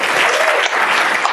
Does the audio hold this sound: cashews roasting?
no